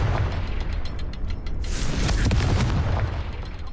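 A Confringo blasting spell exploding in Hogwarts Legacy, a loud booming burst partway through that rises over a dense, rumbling background of game effects and continues with crackling impacts.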